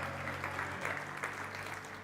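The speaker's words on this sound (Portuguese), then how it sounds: "Dá um glória a Deus, um aplauso para Jesus." Church congregation applauding together during an evening service, a steady dense clatter of many hands lasting a couple of seconds at moderate level, with no talk over it.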